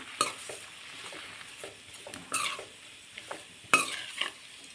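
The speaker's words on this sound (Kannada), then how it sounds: "ಇದಕ್ಕೆ ಎರಡು ಸ್ಪೂನ್ ಸಾಂಬಾರು ಪೌಡರ್ ಮಿಕ್ಸ್ ಮಾಡ್ಕೊಳ್ಳೋಣ" A spoon stirs sambar powder into mixed vegetable and lentil sambar in a pan, producing soft scraping strokes and occasional sharper clinks against the metal, with a faint sizzle beneath.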